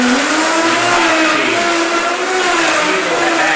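A Vitamix 5200 blender spins up on low and runs steadily, churning a kale and spinach smoothie with a loud, continuous motor whine and rising pitch, close and alone.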